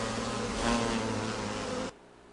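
A colony of giant Asiatic honey bees gives a dense, steady, loud buzzing drone with no voices, cutting off abruptly near the end.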